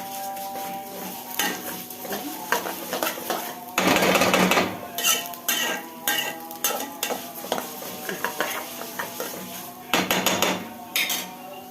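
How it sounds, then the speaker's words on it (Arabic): Rice being washed in a pot while cooking a quick chicken tray bake, with repeated clinks and scrapes of utensils against the pot and water sloshing in uneven bursts, close and fairly loud, no talking. "واغسل الرز"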